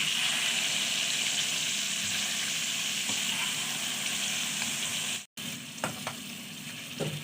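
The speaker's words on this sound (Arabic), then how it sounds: "هنقعد نشوح فيها كده شويه" Chicken sizzles and fries in a pan, a steady loud hiss with occasional stirring scrapes and a brief break in the sound partway through.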